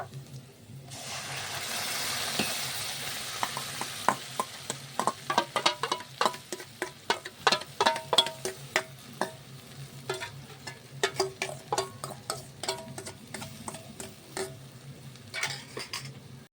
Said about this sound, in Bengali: এইবার ভালো করে নাড়াতে হবে এই যে রসটা আছে এটা পুরোপুরি শুকিয়ে নিতে হবে